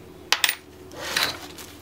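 A quarter coin is set down on a hard surface with two quick clicks, close and clear, then a soft brushing rustle, with no voices.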